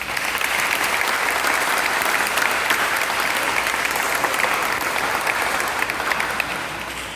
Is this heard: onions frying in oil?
no